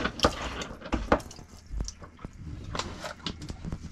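Freshwater tap aboard a sailboat dripping and trickling, with scattered close water drips and splashes at an irregular rhythm amid light background noise.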